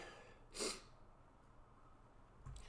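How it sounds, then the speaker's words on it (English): A single short sneeze bursts out once, fairly quiet and slightly distant, followed by near silence and a faint breath. "I'm walking away sneezing."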